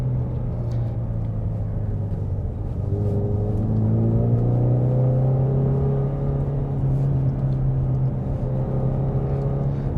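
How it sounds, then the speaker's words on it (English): A 2020 Ford Mustang EcoBoost Premium with the 2.3L engine drives a small circuit, its engine giving a steady low drone that rises and falls in pitch through gear and throttle changes, heard from inside the car. "Going through this little circuit is like nothing for this car."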